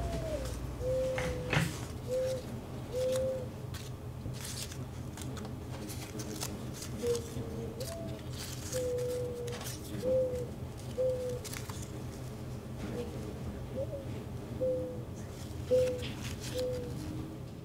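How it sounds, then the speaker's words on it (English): Doves coo in soft, repeated calls across a quiet outdoor ambience, each short cooing phrase recurring every second or two at a moderate distance, with faint background rustle throughout. "the sound of the doves in this scene, that was added in post"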